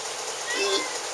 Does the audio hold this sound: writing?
no